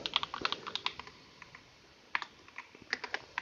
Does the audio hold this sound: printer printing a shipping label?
no